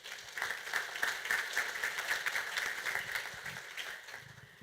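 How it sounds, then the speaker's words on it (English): A fundraiser audience claps steadily and densely for nearly five seconds, the crowd applause staying close and fairly loud throughout, with a faint steady tone running beneath it. "I want you to give yourselves a round of applause for that."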